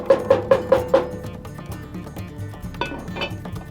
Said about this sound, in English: I'm going to get that lid on there.